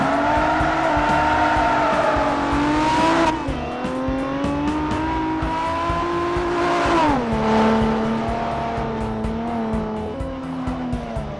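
A highly modified racing DeLorean laps Infineon Raceway in the video game Forza, its loud engine note rising through revs, dropping at shifts and braking, then climbing again, close and continuous with tire squeal.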